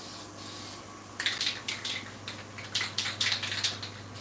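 Aerosol spray paint hissing onto a child's Power Wheels ride-on jeep as it is coated red: a soft, steady hiss first, then a rapid run of short, close, loud spray bursts.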